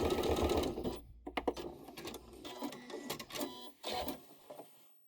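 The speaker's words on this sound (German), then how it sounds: "Anschließend kannst du die kurzen Seiten auf die gleiche Weise absteppen." A sewing machine stitches a hoodie seam, running in a loud burst and then in short stop-start spurts as the seam is finished and backtacked, with no voices.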